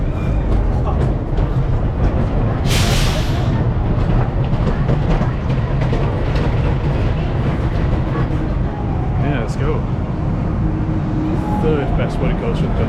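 A purple roller coaster train pulls away at Blackpool Pleasure Beach, a steady rolling rumble with clattering rail noise and a brief hiss, set in busy park ambience with voices talking nearby.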